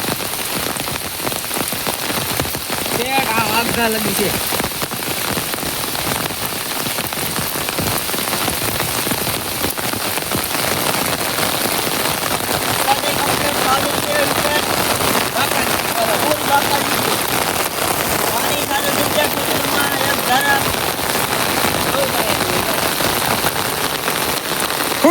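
Steady rain pours over a cotton field in a dense, continuous hiss of drops for the whole stretch, while someone speaks briefly early on.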